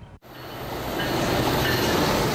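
A train rolls along picturesque railroad tracks, with a steady, loud rumble that builds after a brief dip and then holds close and continuous.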